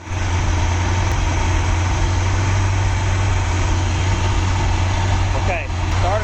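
A Glastron-Carlson CVX23 boat engine starts and then settles into a steady idle, its low, continuous rumble droning loud and close throughout with no break.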